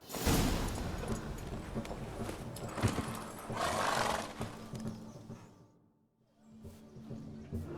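Geralt's horse Roach in The Witcher 3 snorts and whinnies loudly amid heavy hoof and movement noise, then the sound drops away into a brief near-silence before ambience returns.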